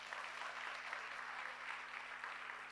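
An audience at a motivational talk on balanced life applauds steadily, a faint but even patter of many hands clapping together for a few seconds.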